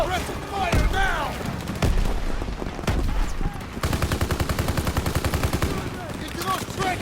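Rapid gunfire in Call of Duty: World War 2 during a battle to capture AA guns, with bursts of automatic fire, single loud shots and explosions mixed with shouted commands, ending in a sustained rattling machine-gun burst.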